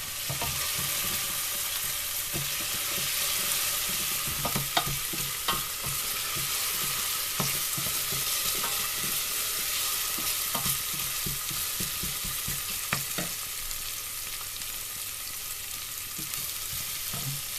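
Chopped onion fries in oil with salt and pepper, giving a steady, close sizzle broken by repeated scraping and clicking as it is stirred throughout.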